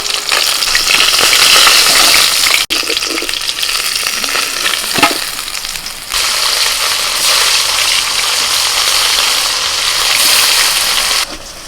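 Rohu fish pieces frying in hot oil in a home Bengali kitchen, a loud steady sizzle close up with a couple of sharp knocks as the pieces are turned, easing slightly partway through.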